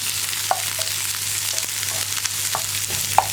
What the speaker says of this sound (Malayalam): ഇതെല്ലാം ചേർത്ത് നന്നായിട്ടൊന്ന് വഴറ്റിയെടുക്കുക